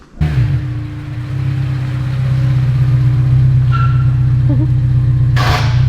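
Honda S2000 engine revving into VTEC: a loud, steady, rising engine drone that builds after a quick start and holds high, with brief faint voices near the end.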